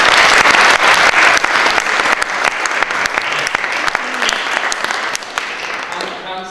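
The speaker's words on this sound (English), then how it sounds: "A round of applause for that one." Children and adults at a children's parliament session in Tiverton Town Hall give a sustained round of applause, loud and dense with sharp individual claps standing out, slowly thinning toward the end.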